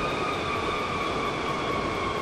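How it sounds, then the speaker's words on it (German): A passing train in the Train Fever railway simulation game gives a dense, steady rumble with sustained tonal whine layered on top, loud and continuous without breaks or voices. "cooler Zug, gefällt mir extrem gut"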